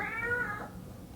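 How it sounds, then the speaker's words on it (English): A house cat lets out a single drawn-out meow that starts strong and tapers off, sitting slightly back from the listener over a quiet room hum. "if you hear the noise in the background, that's my kitty"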